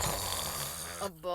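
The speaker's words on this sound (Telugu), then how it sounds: "రాత్రి గురక పెట్టి ఇబ్బంది పెడతాడు" A man snores in a Telugu comedy skit, a loud rasping snore under a voice that briefly exclaims, then cuts off into a short gap before resuming.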